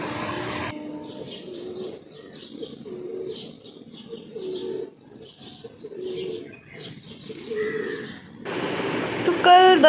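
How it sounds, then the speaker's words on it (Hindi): Birds chirp and tweet in the morning in repeated short calls, with soft dove-like cooing and a low background murmur throughout. "चिड़ियों की आवाज़ इतना प्यारा, इतना सुकून भरा, बस सुनते रहिए।"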